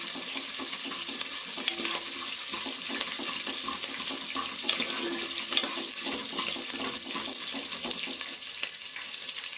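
Oil crackles and sizzles steadily in a pan on low flame as green chillies are added for tempering, with small pops and a light scrape of stirring, no voices.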